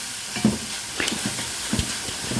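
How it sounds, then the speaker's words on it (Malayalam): A raw mango curry with salt, chilies and copra is stirred in a pan, scraping spoon strokes over a low sizzle, close and moderately loud, no talking. "വീണ്ടും നന്നായിട്ട് ഇളക്കുക."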